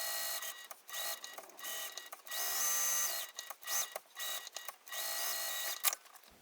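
A sewing machine runs in repeated bursts of rapid mechanical stitching, stopping and restarting as it basting and back stitches two pieces of fabric together for a pouch; close and clear, with no voices.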